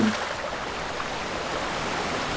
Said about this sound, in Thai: ตรงนี้มีน้ำตก